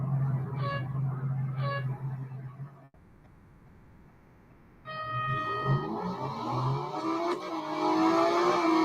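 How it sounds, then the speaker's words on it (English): Race car engines roar in a Real Racing 3 drag race, steady droning revs, a brief lull, then a loud climbing acceleration with rising gear tones and a tyre or horn-like tone, close and sustained without talk. "So let's do the drag race."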